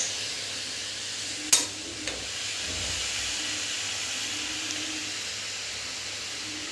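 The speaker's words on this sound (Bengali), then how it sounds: "এইভাবে নাড়াচাড়া করে বেশ কিছুক্ষণ ধরে।" Chowmein stir-fries in a hot pan with a steady, close hiss and sizzle, broken early by a couple of sharp utensil clanks, then settling into an even, continuous frying sound.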